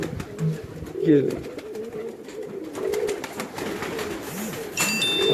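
Pigeons of a breed used to develop many local fancy strains coo in low, rounded bursts, with someone speaking briefly over them and other birds calling nearby.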